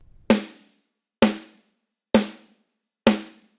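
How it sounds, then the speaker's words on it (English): Four sharp snare drum hits, evenly spaced about a second apart, each with a bright crack and short ringing decay, played alone with silence between. "Popper is a snare drum."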